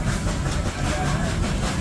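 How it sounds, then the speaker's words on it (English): The Dollywood train in Pigeon Forge, Tennessee rumbles steadily along its track, a continuous clattering roll with faint background chatter throughout. "then Dollywood's famous train."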